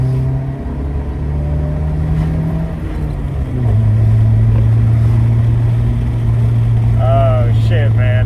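A Honda Civic with an Apex exhaust accelerates, its engine note rising, then dropping at the shift from second to third before climbing again, loud and close. A voice briefly speaks near the end.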